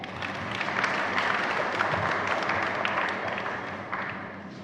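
Congregation applauding in a church during a First Holy Communion service, sustained dense clapping from many people that swells slightly and then tapers off.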